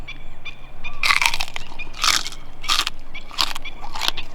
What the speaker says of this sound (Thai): หมูหันหมูอบนี่ก็ต้องเป็นกินหนังนะครับผม กรอบอร่อยแน่นอน